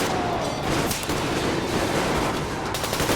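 Weapon fire in the video game Metro Exodus during an ambush, a dense, loud stretch of overlapping gunshots and bursts amid continuous combat noise, without pauses.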